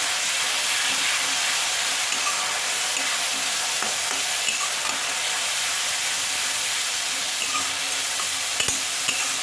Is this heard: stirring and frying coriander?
yes